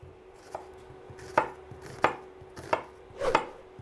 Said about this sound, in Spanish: La picamos.